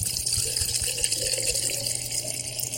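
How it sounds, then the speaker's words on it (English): Tap water gushes and splashes steadily into clear jars, a continuous close hiss and bubbling pour with a low, rumbling undertone, unbroken for nearly three seconds. "Fill each jar half the way full with water."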